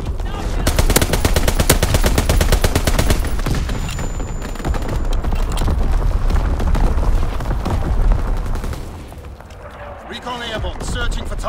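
Dense, continuous automatic gunfire from a strafing run in Call of Duty WWII, loud and sustained with booming impacts and explosions layered in, easing briefly near the end before more firing.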